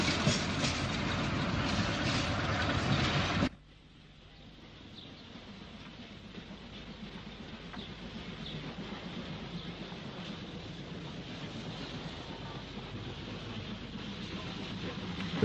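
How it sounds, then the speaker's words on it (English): Type 4 diesel locomotive hauling a train on the 1950s–60s Midlands railway, a loud rumbling passage that cuts off abruptly, followed by a quieter, gradually building rail and engine rumble. "The final special was hauled by a Type 4 diesel."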